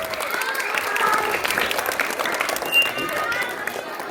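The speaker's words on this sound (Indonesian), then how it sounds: "Beri tepuk tangan untuk Kak Edi dan Sabro." Audience of schoolchildren at a Halal bi Halal gathering in an Islamic elementary school applauding Kak Edi and Saprol, a steady dense wash of clapping that carries on for several seconds.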